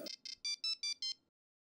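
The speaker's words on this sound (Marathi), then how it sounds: "नुसती बेल वाजते, किती वेळा फोन केला तरी उचलतच नाही." A mobile phone's ringtone rings alone in six short electronic pulses, the first two softer and the last four louder, close and clear, then stops with no talk.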